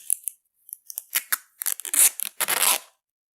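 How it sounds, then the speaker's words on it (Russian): Ordinary clear adhesive tape is pulled off the roll and torn in a run of short, crackling rips and snaps, close and crisp, with no voices, as it is stuck onto a paper printout. "Берем обычный скотч."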